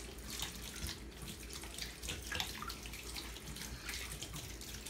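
Water running from a tap into a sink during washing, a steady close splashing stream with light clatter, no voices.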